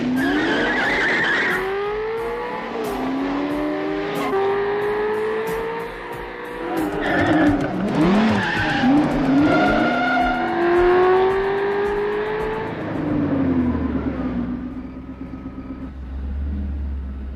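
A Porsche 928 accelerating hard with a sustained tire squeal, the engine note rising and wavering through long skidding sweeps, loud and close before fading at the end.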